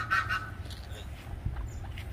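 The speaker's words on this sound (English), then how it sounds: "Silly ducks." A couple of nasal duck quacks at an exotic animal ranch sound near the start, followed by softer calls against a low background rumble.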